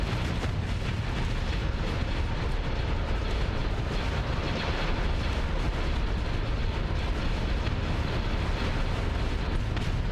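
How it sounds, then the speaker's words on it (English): Space bombs blasting a station in the space combat game Starsector, a dense, continuous roar of explosions and rumbling low-end booms that stays loud and unbroken for the full length, with no talk over it. "It's amazing what a couple of space bombs will do."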